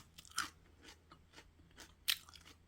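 Crisp, crunchy bites of fresh Jerusalem artichoke kkakdugi (cubed radish-style kimchi), two sharp close crunches followed by softer chewing sounds, no voices.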